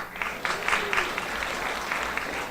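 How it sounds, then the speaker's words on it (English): Audience applause at a storytelling event, a steady wash of clapping from a live crowd lasting the full stretch without a break. "I do appreciate the applause"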